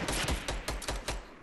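Rapid gunfire in Fortnite, about seven punchy shots in a quick, slightly uneven burst, loud and close with no voices over it.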